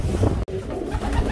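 Pigeons coo softly inside a breeding loft among the birds, a low, steady murmur with wind noise around it and a brief dropout partway through.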